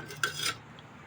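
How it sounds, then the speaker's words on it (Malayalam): A short metallic clank of a tea pot being handled and rinsed, followed by a brief scrubbing rasp that fades quickly. "രാവിലത്തെ ചായയിട്ട പാത്രം ചായയിട്ട പാത്രം അത് കഴുകണം"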